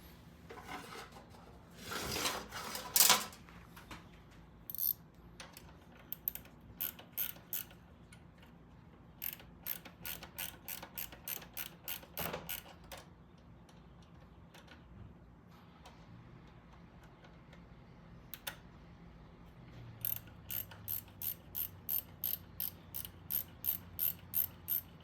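Ratchet tightening a bolt on the primary of a Triumph TR6: bursts of rapid, close clicks repeat in short runs, with quieter pauses and scattered metallic knocks between them.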